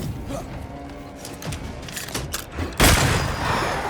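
A corpse fires a gun in Banishers: Ghosts of New Eden, heard as several muffled thumping shots and then a loud burst near the end, over game ambience and faint voices.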